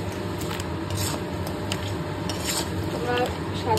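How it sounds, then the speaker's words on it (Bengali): Fish head frying in a pan with five-spice seeds, bay leaf and dried chilli, a dense crackling sizzle with quick stirring scrapes and light utensil clinks over a low steady hum, close and fairly loud. "মাথাটা দিয়ে এখন ভালোভাবে কষিয়ে নিতে হবে"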